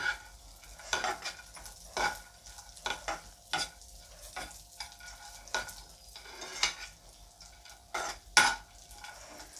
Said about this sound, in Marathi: मनुकेसुद्धा छानपैकी या ड्रायफ्रूट्समध्ये परतून घ्यायचे